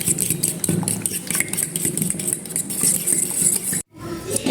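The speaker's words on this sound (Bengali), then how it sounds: "নিয়ে এটাকে আমি আগে ভালো মতো ফেটে নিব।" Eggs being whisked with sugar in a bowl for a pudding, giving a rapid, steady scraping and clinking of utensil against the bowl up close for about four seconds before a brief cut-off.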